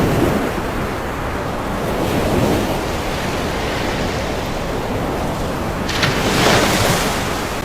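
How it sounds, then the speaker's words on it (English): Heavy storm waves crash and surge continuously amid roaring wind around a pitching boat, with a louder burst of spray toward the end. "caught in a violent storm, waves crashing over the railing as the boat pitches wildly."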